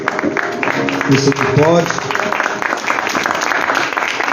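A church congregation applauds during a worship service, a broad wash of clapping running through the whole stretch while someone speaks briefly over it.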